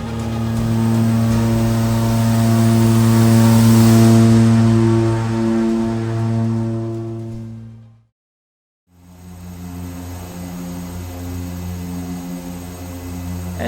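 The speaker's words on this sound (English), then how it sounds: "welcome aboard this de Havilland" Inside a de Havilland DHC-6-300 Twin Otter on approach to St Barthélemy, the twin turboprop engines drone loudly and steadily. The drone cuts out briefly for about a second before the engines resume.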